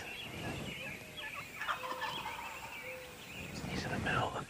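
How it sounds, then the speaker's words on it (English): Wild turkey hen calling in an open field during turkey season, faint and distant yelps under constant outdoor background noise. "The hen started talking."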